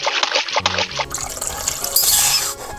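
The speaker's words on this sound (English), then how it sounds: "I can squirt so much water" Water squirting from children's toys, a splashy, gurgling spray in short bursts over a couple of seconds.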